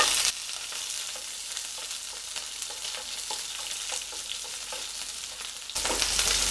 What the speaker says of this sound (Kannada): ಒಂದು ಕರಿಬೇವು ಹಾಕ್ತಾಯಿದ್ದೀನಿ ಜೊತೆಗೆ ಸಣ್ಣದಾಗಿ ಹೆಚ್ಚಿರುವಂಥ ಈರುಳ್ಳಿ ಮತ್ತು ಒಂದು ಒಣಮೆಣಸಿನ್ಕಾಯಿ ಚೆನ್ನಾಗಿ ಹುರ್ಕೊಳ್ಳೋಣ ಇದನ್ನ